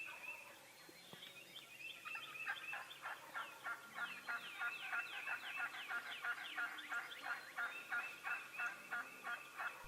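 Wild turkeys gobble repeatedly in rapid, rolling bursts from a distance outdoors, several birds overlapping in a continuous chorus over faint background noise, with no voices.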